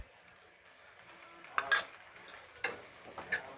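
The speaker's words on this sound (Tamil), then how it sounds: "முருங்கைக்காவை நல்லா பிரட்டி விட்டுடலாம் இதோட" A spoon stirs drumsticks through thick gravy in a pan, giving a few quiet, separate scrapes and clicks against the metal in a hushed kitchen with no talk.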